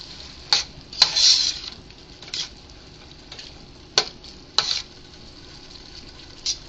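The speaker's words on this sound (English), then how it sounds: "cook and stirring until most of the wine is evaporated" Wine cooks down in a pot of minestrone soup with a soft steady sizzle, broken by several sharp scrapes and clinks of a utensil stirring against the pot at irregular intervals.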